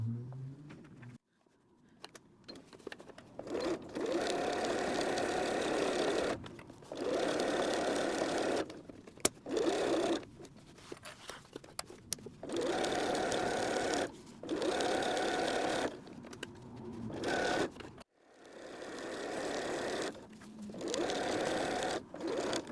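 A sewing machine runs in repeated bursts, stitching two layers of fabric placed right sides together over foam for a patchwork floor mat, starting and stopping with short back stitches; loud, close whirring runs with brief pauses between.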